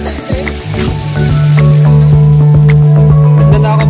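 Water drips and splashes steadily into a container being filled from a distant water source, a continuous wet trickle heard close up with a steady hum underneath.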